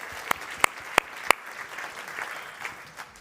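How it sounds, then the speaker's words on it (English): A few loud, sharp claps ring out close by at a steady beat, followed by softer, scattered clapping from an audience at the Startup World Cup Austria 2023 startup pitch event. "So just an applause for yourself."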